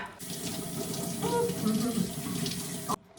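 Water runs from a tap while hands are washed at a home sink, a steady splashing flow lasting a few seconds before it cuts off abruptly; a voice and faint background chatter are heard over it.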